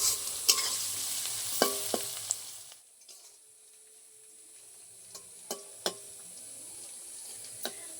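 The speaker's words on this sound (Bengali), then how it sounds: "ভালো করে আমি পেঁয়াজটা তেলের উপরে ভেজে নেবো একটু লাল লাল করে" Onions fry in oil until reddish, a gentle continuous sizzle broken by sharp clinks and scrapes of a spatula against the pan, with a quieter stretch in the middle.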